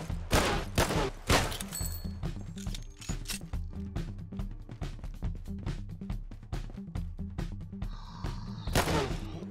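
Rapid gunfire from shooting monsters in the game Regain Earth: First Strike during a mech boss fight, with dense repeated shots over a steady low-pitched game soundtrack and a louder burst near the end.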